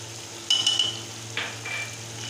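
Tomato and ginger-garlic paste frying in a pot for Delhi-style haleem gives a soft, steady sizzle, with two brief louder bursts of stirring and utensil clinks.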